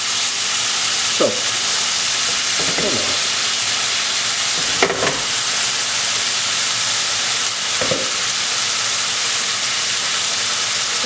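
Marinated taco meat sizzles in a pan as a loud, continuous hiss, broken by a few brief scraping or shifting sounds, with no one speaking.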